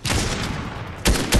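Rapid bursts of Fortnite gunfire in a video game, loud and close, a sustained volley followed by two sharp separate shots near the end, with no talk over it.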